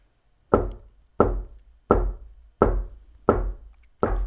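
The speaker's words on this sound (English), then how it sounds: "You can't knock on the door once and hope the universe opens." Six sharp knocks on a door, evenly spaced about seven-tenths of a second apart, loud and close with a short hollow ring after each, alone in a quiet room.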